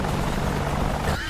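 A helicopter in the DCS World flight combat simulator, heard during a helicopter dogfight competition, drones steadily at close range with a dense rotor whine, tapering slightly near the end.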